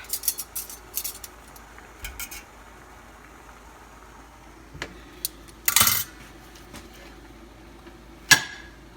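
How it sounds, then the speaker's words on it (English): A metal spatula clinks and scrapes against a pan while lifting cooked sweet potato, several sharp taps spread over a quiet background. "Let me try to take a bigger piece, see how that is done too. I will use my spatula."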